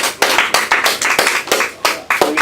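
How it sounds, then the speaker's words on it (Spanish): Loud, close clapping from a congregation at a Bible talk, uneven rhythmic bursts of many hands with sharp individual claps standing out, no speech over it. "vamos a comenzar primero dándole un fuerte aplauso al Señor Dios Todopoderoso"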